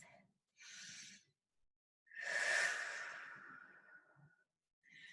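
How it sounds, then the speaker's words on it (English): A deep breath during a flex fitness class: a short inhale, then a long, audible exhale close to the mic, with brief quiet gaps around it. "take a deep breath"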